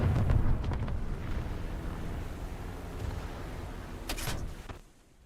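Torpedo bomb blasts rumble across ships in a naval battle video game set in a fjord, a sustained dense low roar with scattered crackling hits and a sharp burst near the end before it fades out.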